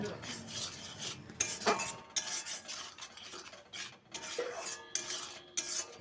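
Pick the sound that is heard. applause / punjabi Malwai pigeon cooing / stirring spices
stirring spices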